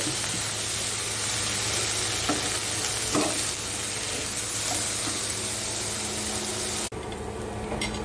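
A spoon stirs boiled chickpeas in a frying pan over a steady sizzle, with a few scraping clinks, then a sudden clunk near the end.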